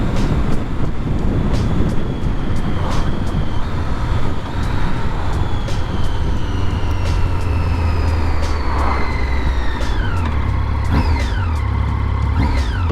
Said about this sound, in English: That induction noise, oh my god,